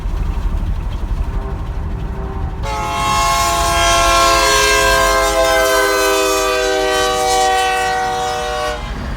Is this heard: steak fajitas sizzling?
no